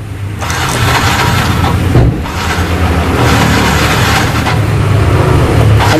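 A fuel-injected motorcycle that had been completely dead is started and revved, its engine running loud and steady throughout with rising and falling throttle surges close by.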